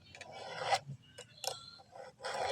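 A chainsaw chain being sharpened by hand with a file, heard as close, dry rasping strokes in short irregular bursts with quiet gaps between them.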